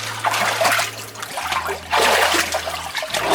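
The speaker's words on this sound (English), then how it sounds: "You just splash it on yourself." Water splashing and trickling during a quick ice-bath plunge, several close bursts of splatter with a steady low hum beneath.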